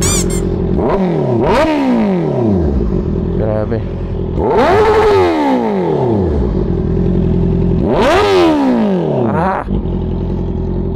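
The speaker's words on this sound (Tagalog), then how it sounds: "Mukhang masyado na palakas yung exhaust natin" Three loud revs rip through an IXIL full-system exhaust on a 2024 Honda CB650R, each blip climbing sharply and then falling back to a rough idle between them, with a brief spoken exclamation over the engine.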